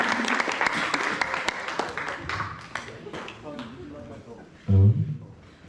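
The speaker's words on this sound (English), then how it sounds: "Another round of applause for Grimes!" An audience applauds after a workshop: scattered clapping fades out over the first few seconds, then voices talk as the clapping dies away, ending with a loud close thump.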